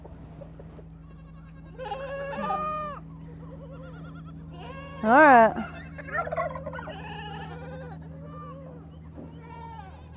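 Goats bleat outside on a farm, a scatter of wavering cries near and far, one loud close bleat standing out, over a steady low hum, with a brief word from a person.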